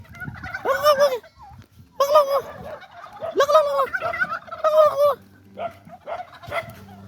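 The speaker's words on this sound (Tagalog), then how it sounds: "Yan yung mga pabo" Several turkeys gobble in loud bursts, one call after another, fairly close, with some rustling and low background noise between calls.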